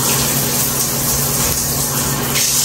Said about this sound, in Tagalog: O, ito shower naman siya.